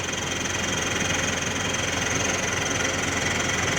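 Engine fitted with an exhaust manifold and no catalytic converter runs at a steady idle, a close, continuous low rumble with an even knocking pulse throughout and no talking.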